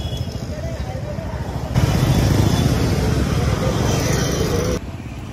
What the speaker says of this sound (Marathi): बघा आता हा चाललाय टेस्ट ड्राईव्ह घ्यायला